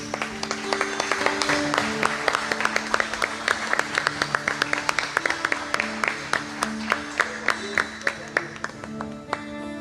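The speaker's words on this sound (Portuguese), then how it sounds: "aplauda mais uma vez ao Senhor Jesus" A church congregation claps in a steady rhythm to praise Jesus, the sharp beats evenly spaced over sustained tones, with a voice faintly underneath.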